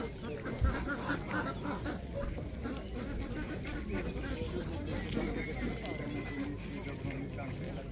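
Ducks and geese at a Polish poultry market, with scattered quacks and honks from the birds mixed into a busy crowd, while people talk close by.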